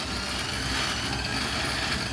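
A small two-cylinder pony motor runs steadily after starting, its dense, even engine noise filling the whole short stretch at close range with no pauses.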